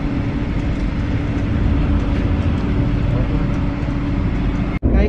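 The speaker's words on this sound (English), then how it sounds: "ito pong train na sinasakyan ko ngayon ay papunta na po ito sa amin" Steady rumbling interior of a moving passenger train in Germany bound for Bad Laasphe, a constant low roar with rattling, continuous for several seconds before a brief sharp dropout near the end.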